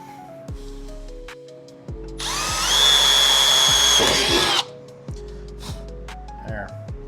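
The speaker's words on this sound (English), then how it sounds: "Oh, that drill bit's really dull." A power drill with a dull bit bores for about two seconds, a loud steady whine rising slightly in pitch, set among intermittent clicks and workshop noise while building fake Hilborn injection stacks on a car stroller.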